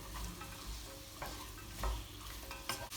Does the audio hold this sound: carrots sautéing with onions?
yes